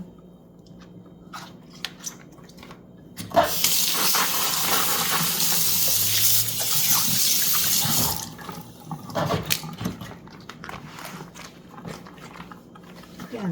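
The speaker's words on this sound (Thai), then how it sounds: "บีบ น้ำออกให้มันหมด แล้วปล่อยให้มันแห้ง" Water splashes and streams steadily from a cleaning cloth being wrung out over a kitchen sink, loud and continuous for a few seconds before fading back to quieter handling sounds.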